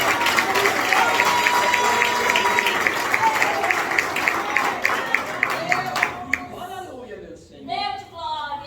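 A church congregation at an evangelical preaching service claps loudly and steadily with cheering voices for about six seconds, then the applause fades and a preacher's voice continues alone.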